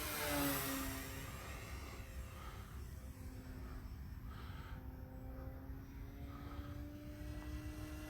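RC P-51 Mustang model plane with an electric propeller motor flying outdoors, a distant steady buzzing drone whose pitch slowly shifts as it passes, faint and alone.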